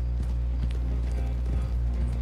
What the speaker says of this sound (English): let's match up the horse's speed